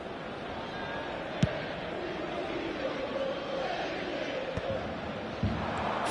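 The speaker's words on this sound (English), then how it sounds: "but it certainly got the crowd going" Stadium crowd noise in a football video game, a steady broad roar of spectators sustained throughout with a few brief sharp knocks, with commentary voices likely mixed in.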